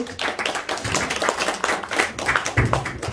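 A church congregation claps for two people during a Sunday worship service, an uneven, lively burst of hand claps with some sharper taps standing out, moderately loud and close.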